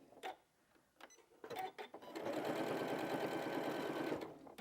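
Sewing machine stitching binding onto a quilt, a few short bursts of needle clatter followed by a steady loud run of rapid stitching that stops near the end.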